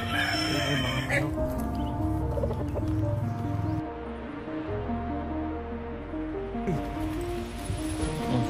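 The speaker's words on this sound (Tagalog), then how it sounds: "Ay, mga manok." Farm chickens clucking and a rooster crowing nearby, repeated fowl calls over rustling and outdoor background, with a person speaking briefly.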